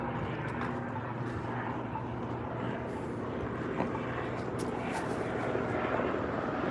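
A tour helicopter drones overhead at a distance over downtown Las Vegas, its engine a steady rumbling wash that holds for several seconds over faint outdoor background noise.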